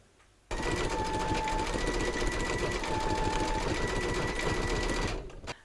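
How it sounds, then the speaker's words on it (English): A large vintage sewing machine stitching in one continuous run, its steady, loud, fast mechanical whirr and rapid needle clatter starting abruptly and stopping near the end, with no voices over it. "I'm going to go back 10 stitches just so that my machine fixes in, and then carry on."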